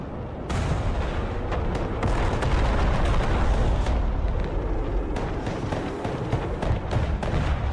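Continuous heavy weapons fire from battlefield units and armor in the multiplayer war game Broken Arrow, dense overlapping booms and sharp gun reports rolling steadily for several seconds.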